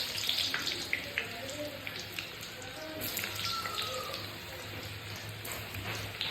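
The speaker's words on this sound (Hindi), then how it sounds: "बैगन को हल्का गोल्डन ब्राउन होने तक फ्राई करेंगे" Brinjal (eggplant) pieces frying in hot oil for a Sindhi kadhi, a steady close sizzle and crackle with scattered pops running throughout.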